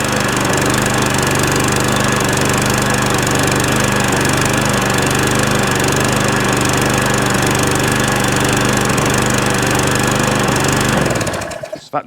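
A lawnmower engine, unstarted for about three weeks and with a dirty carburetor, roars loudly and steadily at high revs, a constant droning buzz up close, then cuts out abruptly at the end.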